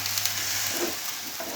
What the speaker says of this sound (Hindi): सारी सब्जियों को मैं अच्छी तरह से मिला दूंगी।